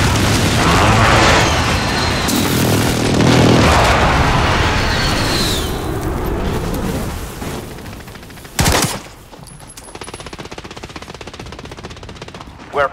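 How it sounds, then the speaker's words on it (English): Call of Duty Modern Warfare airstrike: loud rolling explosions and gunfire fill the first half, fading out, followed by a single sharp blast and quieter scattered pops. "Allied precision airstrike in."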